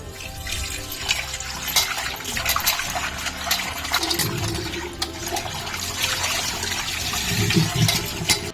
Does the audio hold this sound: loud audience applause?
no